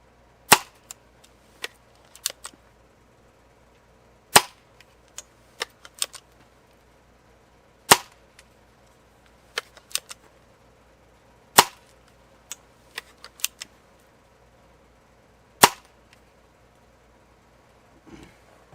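A Benjamin Trail NP air pistol firing JSB Exact 8.44 grain pellets gives sharp, dry cracks, about a dozen spaced irregularly over the stretch, each a short, loud snap with faint smaller clicks between, close and with no talk.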